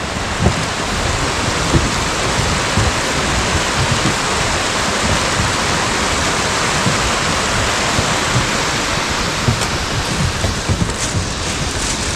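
Waterfall along the trail to the five-colour lake, a steady, loud broadband rush of falling water that stays constant and close throughout with no other sounds.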